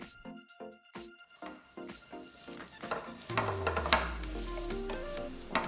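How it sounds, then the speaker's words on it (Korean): Bean sprouts stir-fried in a pan with chili powder and sesame oil, a steady loud sizzle with stirring scrapes and clacks of a utensil against the pan, building into a fuller hiss midway. "고춧가루 1스푼, 참기름 2스푼 넣고 골고루 볶아주고,"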